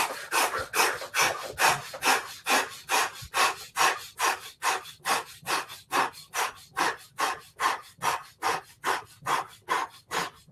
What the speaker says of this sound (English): Now fast breaths, 21.